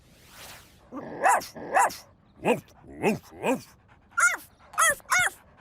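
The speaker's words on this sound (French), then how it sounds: "Écoute attentivement pour trouver quel chien aboie de la même façon." A series of dog barks, close and clear, coming in pairs and short bursts with brief pauses between, some higher and yelpier than others.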